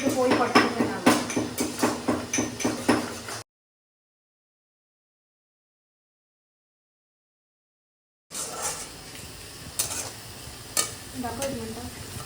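Onion fries in butter and oil for pav bhaji. A rhythmic run of close spoon strokes in the pan opens, then a gap of silence, then a steady sizzle with occasional scrapes. Talk is heard.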